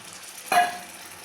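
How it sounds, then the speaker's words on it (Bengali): A brief hiss of water hitting a hot pan of chicken curry with curry leaves, a short sizzling splash that rises quickly and fades, fairly faint against quiet kitchen background. "এখন দিয়ে দিলাম খানিকটা জল।"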